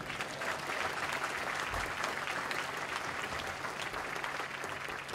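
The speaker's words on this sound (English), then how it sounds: "So how about a round of applause?" Broad, steady applause from the audience at a U.S. Army Materiel Command change of command ceremony, a dense continuous wash of clapping over five seconds at even loudness with no talk.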